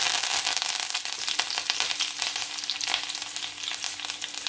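Curry leaves hitting hot oil in a pan over a low flame, alongside mustard seeds and garlic for a tamarind curry, giving a bright, crackling sizzle with rapid spits that stay loud and close throughout.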